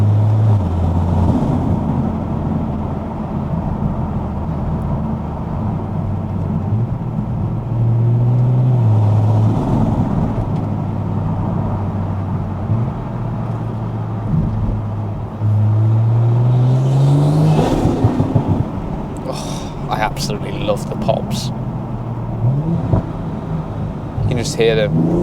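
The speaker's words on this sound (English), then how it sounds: "Now the exhaust system's sounding really nice through here. You can hear it bellowing." GR Supra fitted with a titanium exhaust and ARMASPEED intake, driven at night in the UK: a steady low engine drone rising and falling with revs, heard from inside the car, with occasional clicks and rattles near the end.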